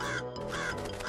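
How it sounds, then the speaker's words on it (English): Harsh cartoon crow caws ring out close by in a short burst, raspy and repeated, with no talking. "Begone, crows! Fly away or you'll face my power!"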